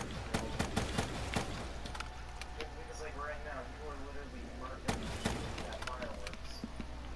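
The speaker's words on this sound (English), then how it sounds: "Fireworks doesn't give you any points and doesn't count towards your kills." Fireworks burst in Call of Duty: Black Ops III as a series of sharp, cracking pops in scattered clusters over a low game hum, while players talk throughout.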